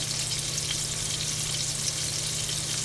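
Cod fillets sizzle steadily in a hot pan, a dense, even frying hiss that holds without pause.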